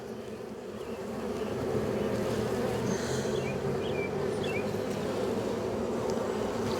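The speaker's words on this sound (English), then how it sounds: "It's like all the bees are making a push down for the other side of the hive." Honey bees in an open hive make a dense, continuous buzzing swarm close by. The drone swells slightly after the first couple of seconds and then holds steady, with no talking.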